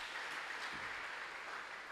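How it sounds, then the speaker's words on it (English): A church congregation clapping for Jesus during a sermon, a faint, distant wash of applause that stays even and continuous. "clap for Jesus."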